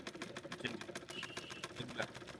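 A sewing machine runs double stitching on cloth in a market shop, chattering in a fast, even rhythm close by with faint background noise.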